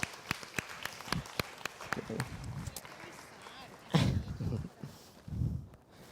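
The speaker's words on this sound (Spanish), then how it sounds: "¿Qué le parece si le da un aplauso al Señor y a Valeria porque está muy linda?" A church audience claps for a few seconds, the applause fairly faint and uneven, with a couple of sharper claps early and bursts of voices and movement later on.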